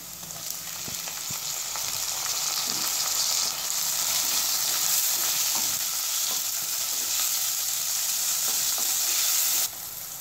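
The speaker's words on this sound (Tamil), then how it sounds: "இப்போ தக்காளி நல்லா வதங்கிடுச்சு" Two tomatoes sautéing with onions in a pan for a quail egg masala, giving a steady, loud broadband sizzle that holds for about ten seconds with occasional soft stirring clicks, then drops slightly at the end.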